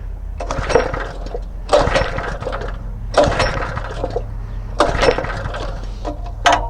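A Honda WD20X water pump engine is cranked by pull-start: five rhythmic, rasping pulls about a second apart, each a loud mechanical whir over a low steady rumble, without the engine catching.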